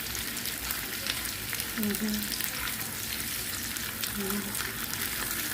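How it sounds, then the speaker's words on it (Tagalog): Fish lightly fried on both sides for paksiw, giving a dense steady oil sizzle close by that stays even throughout, with a couple of faint tonal clinks in the middle. "Slightly fry. Kabilaan."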